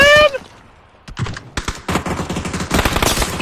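Shotgun fire in the online shooter PUBG: Battlegrounds, several sharp blasts and clattering bursts after a brief high tone, moderately loud and close, with faint voices mixed in.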